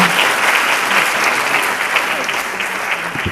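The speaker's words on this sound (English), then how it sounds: "Please give a round of applause for Nat." An audience at a keynote event applauds, dense steady clapping from a crowd close up that holds at full strength for the whole stretch.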